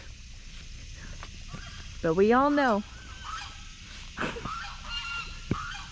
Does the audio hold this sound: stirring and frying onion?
no